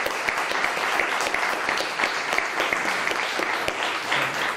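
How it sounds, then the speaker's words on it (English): Sustained applause from an audience at a Lincoln County work-ready community celebration, a dense, even wash of many hands clapping at moderate distance, continuing steadily without talk. "So let's give everyone involved a big round of applause"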